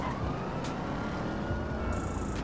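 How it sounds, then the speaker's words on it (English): A police car siren wailing in the distance in a GTA 5 roleplay city scene, faint and wavering beneath a dense wash of background noise, no speech. "You guys heard that siren?"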